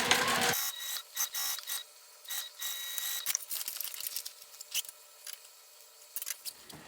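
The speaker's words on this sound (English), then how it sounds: "I'm going to sew around this opening with just 1/8 of an inch seam allowance" A sewing machine stitches around the opening of a fabric hip bag with a narrow seam, giving quick bursts of mechanical clatter broken by short pauses.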